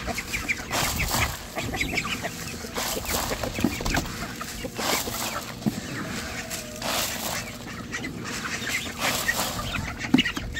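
Young poultry kept outdoors in freezing cold weather cluck and chatter continuously at moderate distance, a busy overlapping stream of calls with outdoor noise behind.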